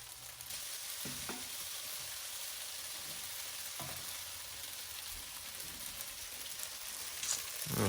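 A big handful of spinach fries in a pan for a tofu scramble, giving a steady, close sizzle with a few soft stirring knocks and no talking.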